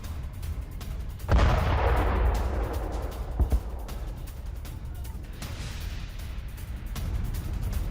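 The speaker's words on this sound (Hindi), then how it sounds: "तो लाचिश इलाके में ईरान ने मिसाइलें दागी।" Iranian missiles strike the Lachish area of Israel: a sudden loud blast erupts early and rolls off into a long rumbling decay, followed by sharper thuds and a later swell of distant roar over steady background noise.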